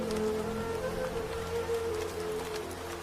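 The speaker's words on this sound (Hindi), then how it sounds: "छत में जगह जगह छेद हो गए थे और पूरा घर बारिश के पानी से भर गया था" Heavy rain pours steadily in a rural home with a leaking roof, a soft, even hiss with faint tonal background sounds underneath.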